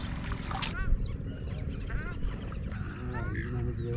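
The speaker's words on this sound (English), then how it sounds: "As winter arrives, birds from Siberia, Mongolia and Europe come here to breed and raise their young ones." Migratory wetland birds calling across the marsh at Mangalajodi Bird Sanctuary, a steady chorus of honking, goose-like and duck-like calls layered over one another, moderately loud and continuous with some nearer cries standing out.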